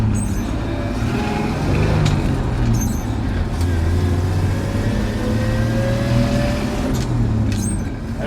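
A truck with a two-speed axle pulls away after the clutch is let out, its engine droning low and steady with a rising whine as it gains speed, heard close from inside the cab.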